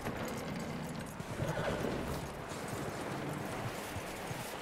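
Horse hooves clip-clop steadily in Red Dead Redemption 2, a soft, even rhythm under a dense bed of ambient outdoor noise.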